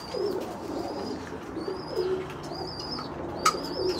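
Pigeons in a stock loft full of cocks and hens coo in repeated low phrases, with a few higher chirps and a brief flutter over a soft, steady room hum.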